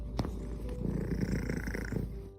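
A domestic cat purrs steadily and close to the microphone, a continuous low rumbling throb lasting a couple of seconds, with a faint click near the start.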